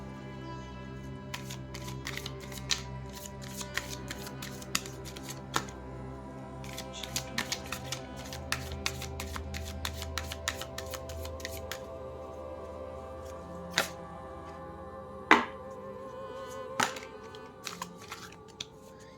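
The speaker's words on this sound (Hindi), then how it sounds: "कार्ड्स बहुत बड़े हैं, प्रॉब्लम होता है इनको कभी शफल करने में कभी कभी।" Large oracle cards are shuffled by hand, giving a steady soft riffling broken by sharp taps and snaps as the cards knock together, close and quiet, with no talk.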